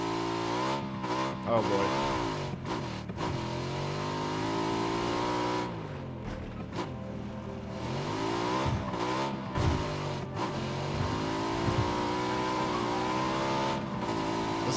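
An engine revs and strains as a vehicle drives across the desert map in PUBG, rising and falling in pitch with steady nearby drone, while someone speaks briefly.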